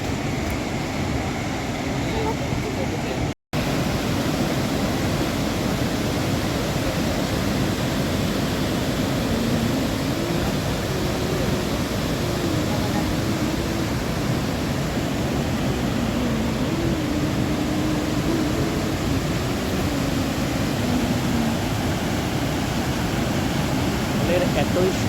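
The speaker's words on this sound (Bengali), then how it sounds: "জলের এতই শব্দ যে আমরা একদম উপর থেকেই পুরো জলের শব্দ একদম শুনতে পাচ্ছি পরিষ্কার।" Dassam Falls near Ranchi heard from above, a broad steady roar of falling water filling the whole stretch with constant loud rushing noise, broken only by a split-second dropout.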